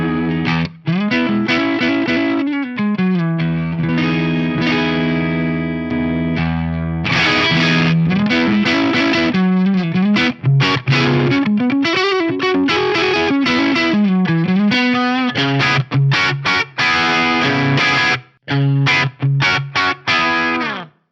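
Electric guitar played through a Synergy Dirty Shirley module on its mellower blue channel, loud overdriven riffs and sustained chords with bends and short pauses, up close with no talk.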